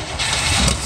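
A 1961 Cadillac limousine, just pulled from storage, runs with a steady, loud, close engine drone for about a second, with no talk over it.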